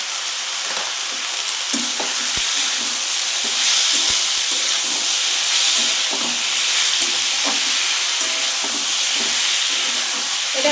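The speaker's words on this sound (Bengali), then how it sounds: "ভালো করে কষিয়ে নেব" Spices with turmeric and salt sizzling and being stirred in a hot pan for a fish curry with winter vegetables, a continuous bright frying hiss with repeated scraping stir strokes, close and alone.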